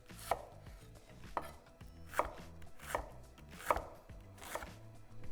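A knife chops an onion on a cutting board in about seven evenly spaced, crisp thuds, close and clear with no talk.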